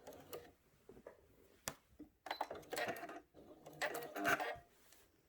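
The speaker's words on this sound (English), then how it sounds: "so I'm going to go ahead and cut threads." A sewing machine used for quilting a placemat, making faint intermittent clicks and short whirring bursts as threads are trimmed, quiet and close with pauses between.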